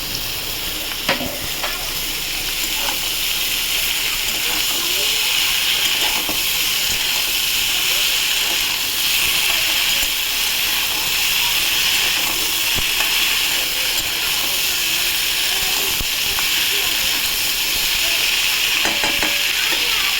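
Chopped snake gourd fries with onion and crushed garlic in a hot pan, a loud steady sizzle and hiss running throughout, broken by occasional stirring scrapes and clinks.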